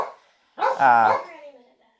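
A puppy gives a single short, high bark, close and clear, after a moment of faint sound and silence.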